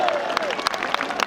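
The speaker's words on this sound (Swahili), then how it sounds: "Wapi makofi yao?" Scattered clapping from a gathered crowd greeting Regina and Sir James at an event, a few sharp separate claps above a murmur of voices.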